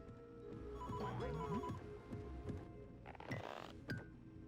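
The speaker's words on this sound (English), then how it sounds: "Have another phone booth call." A telephone rings repeatedly at a phone booth in the SpongeBob SquarePants: Creature from the Krusty Krab video game, quiet bell-like rings over game music and effects.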